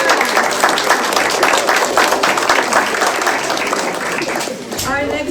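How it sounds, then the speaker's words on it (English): Applause breaks out at a kindergarten graduation, a dense patter of many hands clapping at steady volume that fades slightly toward the end. "A huge round of applause for"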